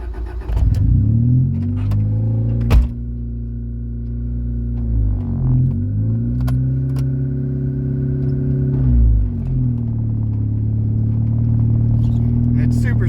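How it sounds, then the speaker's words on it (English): A white 1990 Honda Civic wagon drives with a loud, steady engine drone that rises and falls as it revs through gear changes, with a sharp knock early on. "let's take a drive in the white wagon. It's super loud"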